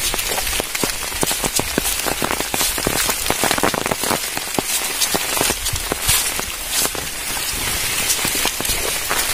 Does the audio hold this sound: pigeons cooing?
no